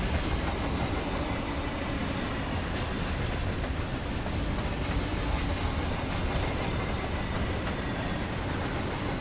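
A loaded BNSF freight train in Run 8 Train Simulator rolls at about 70 mph across the desert, a loud, steady broadband rumble of rail noise and wheel clatter that continues unbroken with no talking.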